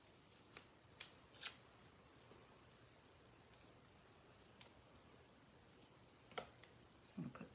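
Scissors trim paper for a handmade underwater-themed card, giving a few sharp, quiet snips spaced apart in a hushed room, a quick pair close together near the start and more scattered ones after.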